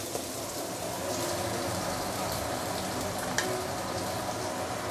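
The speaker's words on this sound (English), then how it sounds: "So just saute for a minute or two before we continue." Garlic oil sizzling steadily in a hot pan as ingredients saute, a soft continuous crackle with faint pops and no talking.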